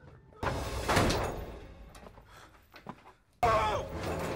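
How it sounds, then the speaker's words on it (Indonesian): Heavy door forced open in a scene from the 2019 crime film Bad Guys: Reign in Chaos, with a loud crashing impact, a stretch of quieter scuffling noise, then a second loud burst near the end. "Dan pintu didobrak."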